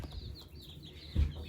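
Chickens on a farm make soft close clucks and one louder squawk, with faint higher peeps from baby chicks along the top.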